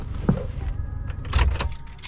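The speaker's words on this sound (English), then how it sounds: "Let me take the seatbelt off." A seatbelt comes unbuckled inside a 2002 Mitsubishi Lancer at a gas station, with a quick latch click and the webbing rustling and sliding back over a low, steady engine hum.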